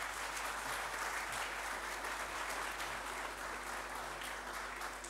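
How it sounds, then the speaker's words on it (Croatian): Applause from a conference audience after a technical talk on database replication, faint and distant but steady, many hands clapping evenly for about five seconds with no voices over it. "Jedan aplauz"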